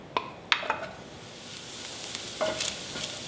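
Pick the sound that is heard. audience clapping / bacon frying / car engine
bacon frying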